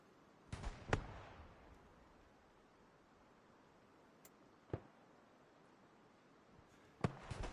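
Rockets firing in the WWII shooter Hell Let Loose, heard as several sharp blasts: a close pair at the start, a single bang in the middle and a final burst, each trailing into a quiet hiss with no talking.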